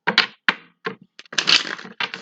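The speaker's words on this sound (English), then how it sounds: "right now I'm just shuffling the deck I'm going to use to clarify today" A deck of tarot-style cards being shuffled by hand, with quick close riffling bursts and crisp flicks in irregular clusters separated by short silences.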